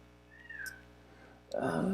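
A house cat meows to be let in, a short rising cry followed by a louder, closer mew toward the end, with faint room background.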